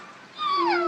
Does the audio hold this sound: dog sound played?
yes